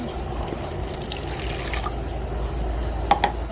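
Water poured into coconut sugar in a kitchen to make syrup, a steady soft trickling and splashing stream lasting a few seconds, ending with a couple of small drips, close and alone.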